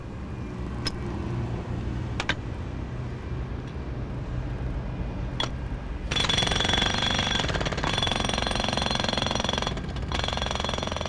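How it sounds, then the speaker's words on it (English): A steady pneumatic drill fitted with a flat foot for flattening a surface hammers continuously, growing louder and harsher midway, with occasional sharp clicks over a constant traffic rumble. "they use the same pneumatic drill with a different foot at the end"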